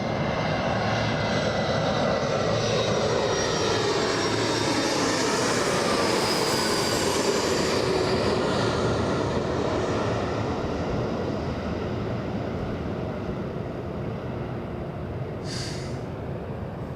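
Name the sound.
Embraer E-175 jet aircraft on the runway at LAX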